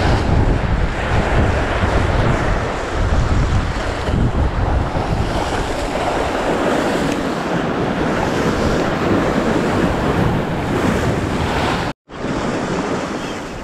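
Ocean waves roll onto the shore during a fishing outing, a loud continuous wash of surf mixed with wind buffeting the microphone, briefly cutting out near the end.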